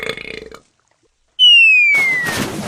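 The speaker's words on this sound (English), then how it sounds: "He burped, and his burp shook the throne of the king." A cartoonish burp sound effect: a short voiced bit, a pause, then a rising-falling whistle-like tone that breaks into a loud rough belch.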